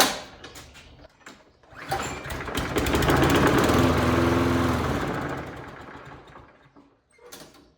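A lawn mower engine primed with starting fluid is pulled over, then fires into a brief rough, buzzing run that swells and dies away, followed by quieter mechanical clatter.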